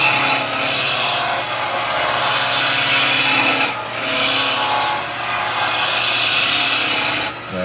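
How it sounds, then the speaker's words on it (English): A skew chisel taking a roughing cut on a wood lathe, turning an arm for a Christmas nutcracker, with a loud, continuous scraping hiss that swells as the tool moves back and forth and briefly eases between passes. "So we're just going to run the skew back and forward. This is a roughing cut."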